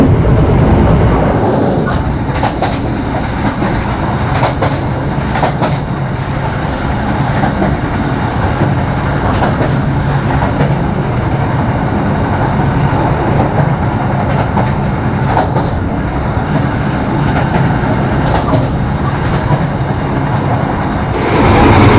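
The Brawijaya passenger train rolls along the rails with a continuous loud rumble and periodic clacks from the track joints, heard from inside the carriage at night.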